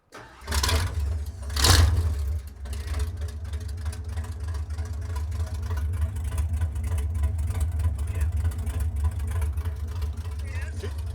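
A gasser wagon engine with a big 1957 Chevy cam cranks and fires, blips loudly once, then settles into a low, steady, lumpy idle close by, with people talking over it.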